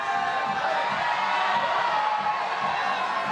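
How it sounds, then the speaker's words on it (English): A crowd cheers at a climbing competition final, a steady wash of distant cheering and shouting that holds evenly for the whole stretch. "you can hear the crowd in the background"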